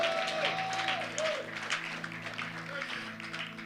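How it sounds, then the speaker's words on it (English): A church congregation claps along during a sermon, a steady sustained clapping under a sustained musical tone and background voices, moderately loud throughout. "Clap your hands and give him the glory."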